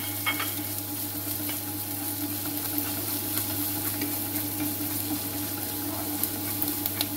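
Onion, ginger and garlic sizzle and crackle as they are stirred in hot oil in a pan, with a steady frying hiss that continues throughout and occasional scraping stirs, close and moderately loud.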